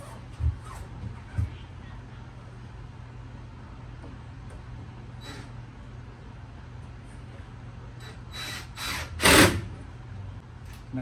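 A power drill drives screws to hold up a food truck wall, with a few short whirring bursts near the end over a steady low hum and faint background noise.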